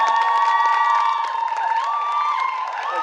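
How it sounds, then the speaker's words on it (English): An audience at a public event cheers for a speaker being introduced, with sustained whoops and raised voices, loud and continuous throughout. "a big round of applause for Mazi, Chidi, Okoro."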